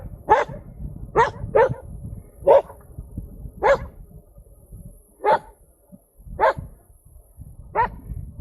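A dog barks eight times in short, sharp bursts spaced irregularly over several seconds, fairly near and clear against a low rumbling background along a rural Wyoming road around Thayne, Bedford and Turnerville.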